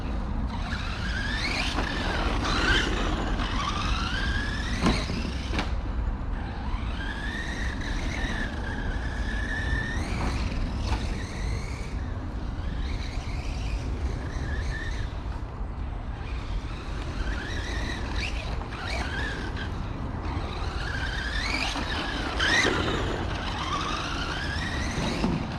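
Maverick Strada MT radio-controlled monster truck driving over homemade ramps and making small jumps, its electric motor whining in rising and falling sweeps with bumps and clatter over a steady outdoor rumble.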